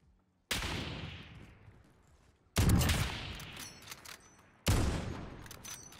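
An AX50 sniper rifle fires three loud, booming shots in a Call of Duty match, each a sharp crack followed by a long rolling echo, spaced about two seconds apart.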